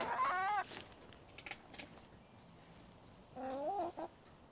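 Backyard hens free-ranging in a home garden cluck in two short bursts, one at the start and one near the end, with a few softer clucks and quiet ambience between, fairly close and alone without speech.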